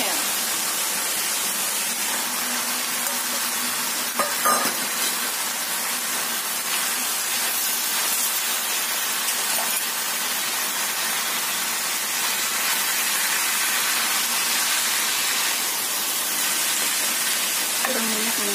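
Javanese mi goreng noodles stir-fried in oil in a pan, giving a steady broadband sizzle and hiss that runs throughout, with occasional faint clinks of a utensil stirring.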